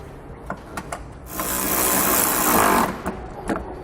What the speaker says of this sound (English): Remove this tape and reinstall this bolt.